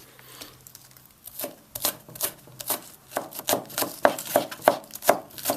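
A knife chops green onion on a cutting board for momo filling, a quick run of crisp, close taps that speeds up into a steady rhythmic series, with no talking.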